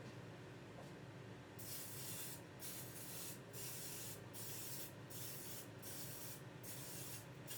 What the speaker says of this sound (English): so we'll spray it